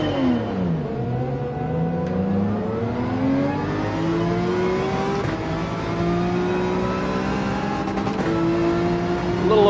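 Race car engine in Gran Turismo screaming at high revs, pitch climbing through gears and briefly over-revving, loud and continuous with no talk.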